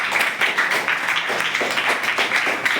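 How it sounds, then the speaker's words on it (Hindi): A classroom of schoolchildren claps for fellow students, a dense, steady patter of many hands lasting a few seconds. "तालियां एक बार इन बच्चों के लिए।"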